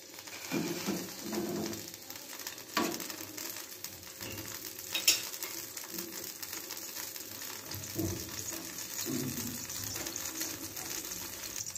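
Chopped garlic sizzles in hot oil in a pan, a soft steady frying hiss with a few faint clatters, quiet and close with no talking.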